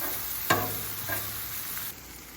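Cabbage and corned beef frying and crisping in a pan outdoors at Blakeley State Park, a steady soft sizzle with a couple of sharp scraping stirs of a utensil against the pan.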